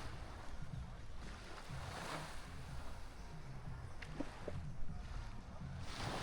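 Waves wash steadily onto a beach at Playa del Carmen, a continuous surf roar with wind buffeting the microphone, moderately loud and with no one speaking.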